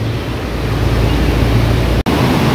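A river swollen after a cloudburst near Dehradun rushes with a constant loud, dense roar of flowing water, briefly cut by a momentary dropout near the end, with no voices.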